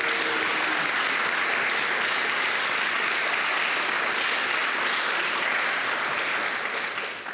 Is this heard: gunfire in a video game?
no